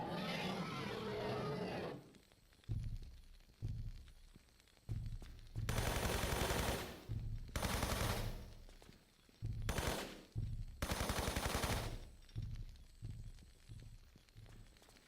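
Gunfire in the Tomb Raider I-III Remastered game as Lara shoots at a creature in the South Pacific Islands. Rapid bursts of repeated shots come in several clusters between quieter gaps, loud and alone with no talking.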